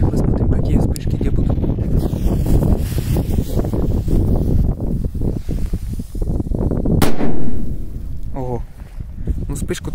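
Firecrackers and fireworks burst at night in dense crackling volleys, loud and close with wind rumble on the microphone, followed by a sharp bang and a short trailing fizz near the end.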